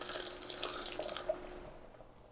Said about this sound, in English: now we are going to add about 2 cups of cream